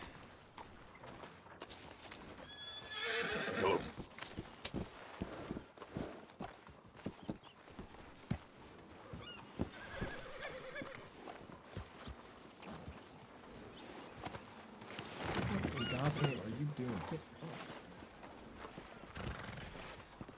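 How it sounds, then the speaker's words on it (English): A horse neighs in the Red Dead Redemption video game during a roleplay session. Two whinnies rise clearly above a steady ambient bed, one early and a longer one near the end, with faint hoof clip-clop between them. "Yeah, I left the horse right here."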